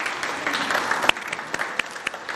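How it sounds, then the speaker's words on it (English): Clapping from an audience at an award ceremony, a short, close burst of steady applause with a few sharper individual claps standing out. "Okay, we'll clap."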